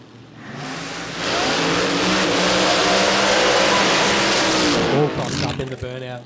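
Supercharged red altered drag racing car at Willowbank Raceway in Queensland doing a burnout, its engine roaring loud and sustained for several seconds before cutting back to a lower idle at the end.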